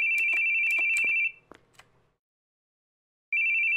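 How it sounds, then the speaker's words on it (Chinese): A mobile phone rings in the horror detective video game Inaba Detective, a steady electronic tone pulsing with clicks, cutting off into silence before starting again near the end. "为什么手机的声音？"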